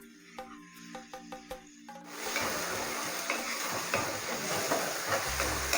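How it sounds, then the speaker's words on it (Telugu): Tomatoes, onions and ginger garlic paste fry in a pan with a loud, continuous sizzle and hiss, after a few light rhythmic taps and a short tonal beep at the start. "ఇంకొక అనదర్ 5 మినిట్స్ ఇది ఫ్రై అవ్వాలి."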